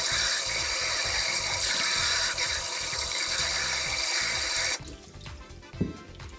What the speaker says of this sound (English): you should always start by washing your produce under running water to remove any dirt or residue